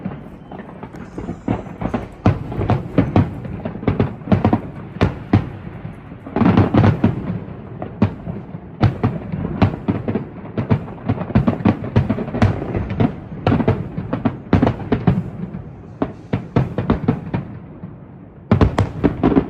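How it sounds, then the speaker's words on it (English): Epic Universe theme park fireworks show, a long dense barrage of booming bursts and crackling pops, loud and continuous with heavier clusters, heard from a distance with no speech. "Epic Universe is actually getting a proper fireworks show"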